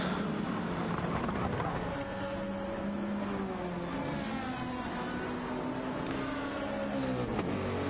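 Race car engines in a racing video game roar throughout, with steady droning and gear-shifting pitch sweeps as several cars pass close together, loud and continuous with no pauses.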